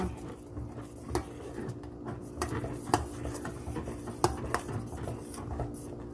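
A spoon stirs thick ragi porridge sweetened with palm jaggery in a pot, giving faint, steady scraping with irregular metallic clinks against the pan, fairly quiet and without talk.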